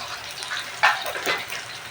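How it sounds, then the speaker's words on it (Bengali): A little water poured into a hot pan of browned onions and green chilies gives a short splashing gush with a brief hiss, close and fairly loud. "সামান্য একটু পানি দিয়ে দেবো।"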